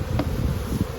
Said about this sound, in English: once the bees start getting into the robbing mode